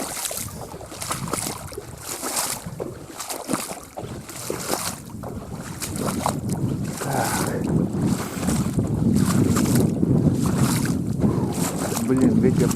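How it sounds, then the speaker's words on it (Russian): Strong spring wind buffets the microphone at a reed duck-hunting blind, a steady broadband rush that swells louder over the second half, with faint voices underneath. "ветер так и не стих"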